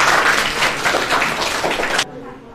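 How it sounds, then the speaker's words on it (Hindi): A classroom group at a coaching centre applauds three students, dense clapping from many hands lasting about two seconds before stopping abruptly. "तीनों के लिए तालियां।"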